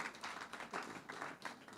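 An audience at a trade and tax forum applauds, a faint, steady patter of clapping from many hands that continues through the short stretch without any voices.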